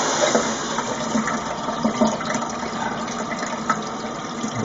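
Water runs through a tub shower diverter valve out to a shower head, a steady loud rushing hiss with a faint mechanical hum beneath, continuous and close throughout.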